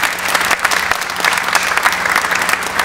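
A large crowd at a university Founders Day ceremony applauds faculty and staff, a dense, continuous roar of clapping filling the hall, loud and steady throughout.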